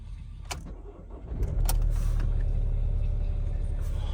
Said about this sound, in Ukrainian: Ага, 220 пробігу у нас тут, запустимо її на холодну.